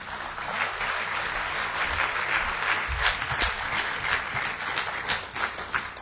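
Audience applause in a lecture hall at an academic conference, welcoming a lecturer to the podium; steady dense clapping from a crowd sustained throughout, fairly even in level with no talk over it.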